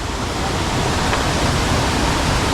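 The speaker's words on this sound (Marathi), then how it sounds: "हा आपला डुबवसा दोन्ही बाजूने वाहतोय" A rain-fed forest stream in the Konkan rushing over rocks, a loud, dense, continuous roar of water with no pauses and no voices.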